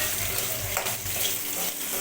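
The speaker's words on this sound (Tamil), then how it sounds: "ஒரு 20 நிமிஷம் நல்லா வதக்கி விட்டுருங்க" Ingredients for ranagali leaf thuvayal are sautéed in a pan, making a continuous close sizzle with soft stirring scrapes throughout.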